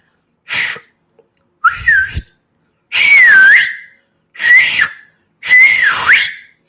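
A person whistles several short, sliding tones in separate bursts, each rising and falling in pitch, loud and close with brief pauses between.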